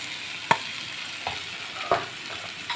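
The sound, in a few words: stirring potatoes with salt in frying pan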